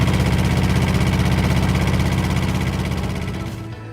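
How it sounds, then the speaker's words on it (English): The engine of a Traccess 230 aerial work platform, started from the remote, runs with a loud, steady low throbbing idle that fades off near the end. "we can start the engine from the remote"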